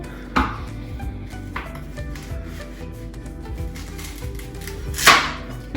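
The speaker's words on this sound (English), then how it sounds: "I'm going to cut up my leek." A knife slices through a leek on a wooden chopping board, with a few sharp cuts and scraping strokes against a low background hum, heard close and without talking.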